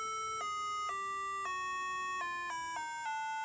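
A Korg TM-60C combo tuner metronome plays a steady electronic pitch reference tone that shifts through several stepped notes, quiet and close.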